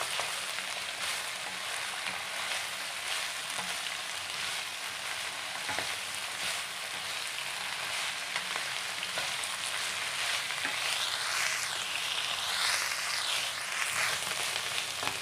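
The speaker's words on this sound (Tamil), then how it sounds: "கேபேஜ் அஞ்சு நிமிஷமாக நல்லா எண்ணெயில் வதங்கிட்டுருக்குங்க" Shredded cabbage sautéing in oil in a pan for Tamil cabbage kurma, a steady close sizzle and crackle running unbroken throughout with occasional stirring scrapes, and no talking.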